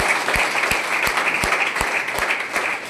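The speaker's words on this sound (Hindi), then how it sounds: "तालियां बजनी चाहिए ना" A room full of guests applauds the groom at a celebration, dense continuous clapping with sharp individual claps standing out in a loose rhythm, close and fairly loud throughout.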